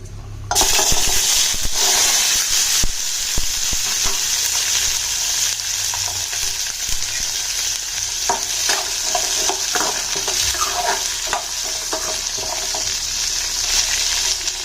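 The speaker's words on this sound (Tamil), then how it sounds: "எண்ணெய் நல்லா காஞ்சதும் நம்ம எடுத்து வச்சிருக்க சின்ன வெங்காயத்தை வந்துட்டு இது கூட ஆட் பண்ணிக்கலாம்" Small onions dropped into hot sesame oil, a loud continuous close sizzle with stirring scrapes and clatter of the spoon against the pan throughout.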